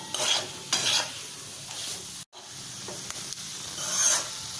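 A spoon stirs ragi (finger millet) flour and almond slices roasting in a pan, giving soft scraping, rasping sweeps with a light sizzle, repeated in short bursts with one brief pause.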